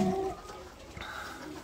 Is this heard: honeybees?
no